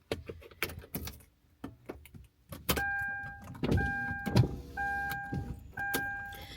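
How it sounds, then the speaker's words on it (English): Inside a car, a few clicks and clunks come as it is started, followed by repeated whirring hums from an electric power window motor lowering the glass, close and fairly quiet, with no talk. "Let me turn this car on so I can let down my window."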